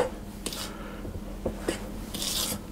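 Spiced speculaas cookie dough being mixed in a bowl makes soft scraping and rubbing strokes with a few sharper scrapes, quiet and close with no talking.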